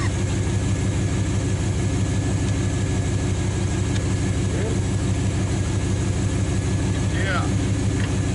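A 1946 Dodge truck engine runs for the first time in decades, producing a steady, close, low rumbling drone that holds an even idle throughout without a pause.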